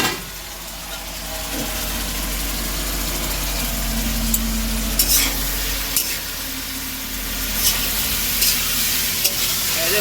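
Meat being stirred and fried in a pot cooked inside a car, with a steady close sizzle and scraping stir sounds over a constant low engine-like hum, a few sharp clinks along the way.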